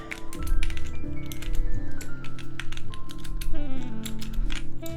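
A 60% mechanical computer keyboard is typed on in quick, irregular bursts of clicky keystrokes, close and clear, over a steady background hum and tones.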